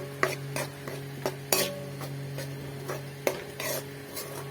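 Chilli powder and ginger garlic paste with a little water cook in a pan while a spoon stirs them. There are several sharp, rhythmic metallic scrapes and knocks over a soft sizzle, close by, with no talking.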